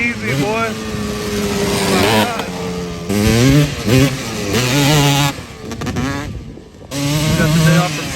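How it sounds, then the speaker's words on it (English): A Honda TRX250R two-stroke ATV engine revs hard in third gear, a loud, rising and falling whine that surges, eases off and climbs again, with people talking over it. "He's all up in the power band in third gear."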